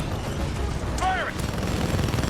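Titan weapon fire in the video game Titanfall 2, rapid heavy bursts rumbling under a brief synthetic voice cue, loud and continuous throughout.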